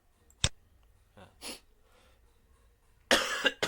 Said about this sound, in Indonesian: maaf saya banyak batuk